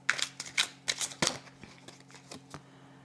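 Tarot cards are laid down on a table in a quick series of soft slaps and flicks, about a dozen card sounds close up, with a faint steady hum underneath.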